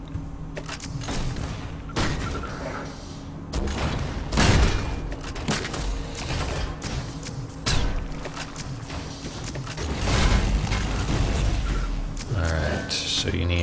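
Rocket launcher blasts and other weapon fire in the arena shooter Reflex, on the Furnace map, with repeated thumping explosions and bursts over continuous game noise and a commentator talking throughout.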